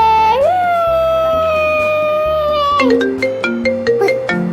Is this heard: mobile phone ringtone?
yes